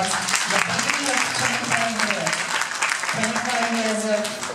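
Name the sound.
audience applause at a school graduation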